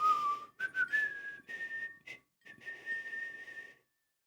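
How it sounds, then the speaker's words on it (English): A thin, whistling flute melody from the 1989 adventure game Quest for Glory 1 plays a simple tune in phrases with short pauses, soft and alone. "I can barely hear that flute, whistling flute in the background that is playing our tune."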